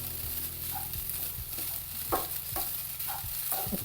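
Grated coconut is dry-roasted in a pan, with a soft sizzle and repeated scraping strokes of a spoon at a steady rhythm.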